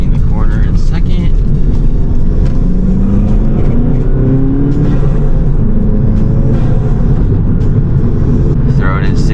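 A Volkswagen GTI with an aftermarket intake and Stage 1 tune drives hard in second gear around a corner, its engine droning steadily with a rising rev line, loud and continuous, with a faint whine of boost and wind under it.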